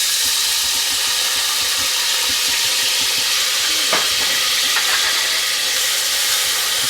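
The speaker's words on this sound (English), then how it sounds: "to that, I'm going to add some minced garlic and minced onion" Minced garlic and onion sizzling in oil in a hot saucepan over medium heat, a steady close hiss with a few brief stirring scrapes near the middle, no talking.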